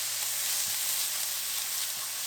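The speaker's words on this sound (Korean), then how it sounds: "이제 팽이버섯을 넣고 볶아주세요." Enoki mushrooms stir-frying in a pan with garlic, onion, carrot and nearly cooked meat give a steady, close broadband sizzle with a faint low hum and a couple of soft stirring knocks.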